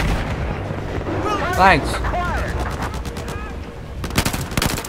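Battlefield 4 combat: continuous distant gunfire and rumbling explosions, with whistling, swooping effects and a sharper burst of shots near the end, while players talk over it.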